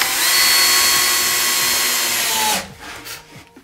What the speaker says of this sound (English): I always try to take care not to split any timber when I'm screwing, so pilot hole, always, every time.